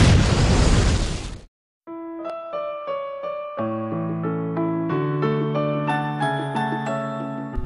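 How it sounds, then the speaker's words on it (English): A harsh video-game explosion roars for about a second and a half, cuts off, then gives way to bright, tinkling synth music with layered chiming notes. "Explosions!"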